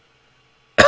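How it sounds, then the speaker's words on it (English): A single sudden cough bursts out at the very end after near silence, short and close to the microphone. "Whenever I stream, I just cough randomly."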